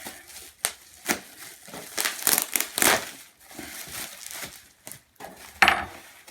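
Blade cutting open cardboard packaging on a Grand Videoke Symphony 3 Pro Plus box, with crinkly scraping and tearing strokes and sharp taps, close and irregular.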